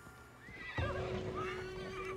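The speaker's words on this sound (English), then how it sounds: "Let's take my horse" A horse in Assassin's Creed Valhalla gives a clear, close neigh that rises and trails off, with a few soft hoof clops underneath, heard on its own without speech.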